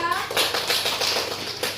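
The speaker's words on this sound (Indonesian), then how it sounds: "Tepuk tangannya untuk kelompok 2" Students in a classroom clapping for a group after its presentation on biotic and abiotic components, a dense burst of handclaps with children's voices mixed in throughout.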